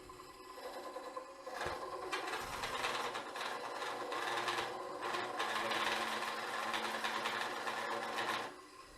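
A Woodcut Bowlsaver Max4 cores a wooden bowl on a lathe, a continuous chattery, buzzing scrape as the blade rounds the corner into end grain, steady for several seconds before stopping.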